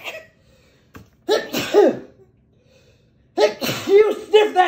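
Two bursts of sneezing and coughing from a person who has sniffed cinnamon powder, each a sharp explosive burst followed by sputtering gasps, close and loud with quiet gaps between.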